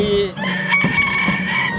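A farm rooster kept in a garden crows loudly and close by, with one strong drawn-out call that fills the moment and is heard alone without talk.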